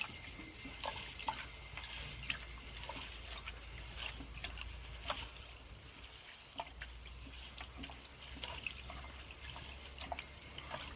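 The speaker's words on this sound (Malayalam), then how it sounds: "വെള്ളം തിളച്ചു തുടങ്ങി വെള്ളം തിളയ്ക്കുന്നുണ്ട്" Water boils in a pot for rice porridge in a village kitchen, giving a faint, continuous trickling bubble with occasional soft pops over a low steady hum.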